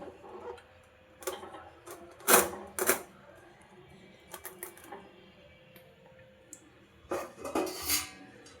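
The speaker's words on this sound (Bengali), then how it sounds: "এবার একটা স্ট্যান্ড বসিয়ে দেবো এর উপরে ব্যাটারটা দিয়ে দেবো" A metal stand set down into a pot of hot sand for baking a cake gives sharp metallic clanks and scrapes in scattered bursts, close and fairly loud, with quiet gaps between.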